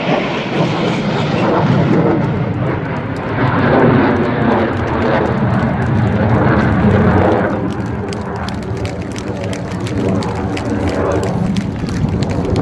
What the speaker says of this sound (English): And coming past us for the last time, the Eurofighter Typhoon FGR-4.